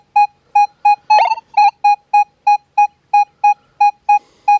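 A Minelab Manticore metal detector sweeps over an aluminum can lid, sounding a steady series of about a dozen loud, clean electronic beeps in an even rhythm, with one brief garbled burst partway through.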